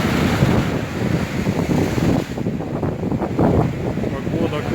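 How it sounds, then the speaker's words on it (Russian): Stormy sea waves crash against the Yalta embankment under strong March wind, a loud continuous roar of surf and gusts buffeting close by, with no speech over it. "Смотрите, вся нижняя набережная, без людей, волны."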